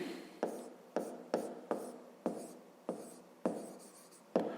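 Numbers being written by hand for a fifth-grade maths exercise, a close run of about nine short, sharp pen strokes with brief pauses between them, quiet and with no talking.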